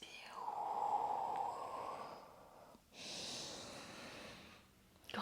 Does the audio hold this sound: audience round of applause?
no